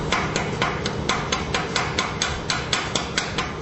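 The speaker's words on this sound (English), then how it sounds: "now we're going to clean the slag off the 7014 first" A hammer chips welding slag off a 7014 weld bead in a steady rhythm of about a dozen crisp metallic taps, close and clear with no voices.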